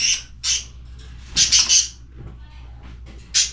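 Pet birds squawking indoors in loud, harsh bursts, with two early calls, a tight cluster of three near the middle and one more at the end, each close and shrill, with quiet background between.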